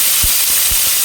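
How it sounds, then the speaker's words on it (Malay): Halved and chopped green chili hitting hot oil in a non-stick pan, a steady close sizzle and hiss with a few soft stirring thumps, no talking. "Masukkan chili hijau"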